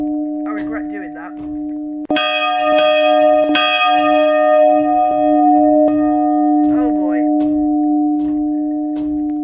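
Church bells in an eight-bell Roblox tower at Odenthal ring loudly, with several bright clanging strikes whose long resonant tones sustain and overlap, while chirpy game-like sounds come and go around them.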